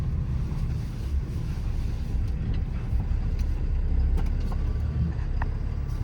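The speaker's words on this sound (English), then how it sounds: "Drives pretty straight down the road, brakes feel good, shifts through the gears as it should." A 2015 Ram 5500 4x4 with a Cummins diesel engine drives down the road, giving a steady low rumble and road noise throughout with no one talking.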